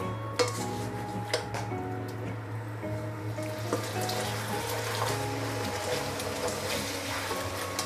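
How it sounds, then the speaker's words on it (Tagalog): Pork chili with red and green chilies is stirred in a cooking pot, making a steady clatter of a utensil against metal with scraping and liquid sounds, continuous and fairly close. "Haluin natin."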